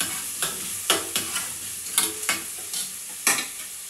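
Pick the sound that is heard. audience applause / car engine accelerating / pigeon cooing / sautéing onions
sautéing onions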